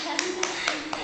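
A small child claps hands four times at an even pace, soft close slaps over a steady background hum.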